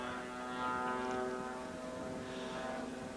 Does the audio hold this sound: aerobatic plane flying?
yes